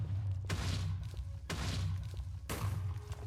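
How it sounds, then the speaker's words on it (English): Three heavy, muffled thuds at roughly one-second intervals mark industrial TNT explosions in a modded video game, each a deep boom with a brief crackling burst over a steady low background hum. "And now I will use the industrial TNT to do explosions."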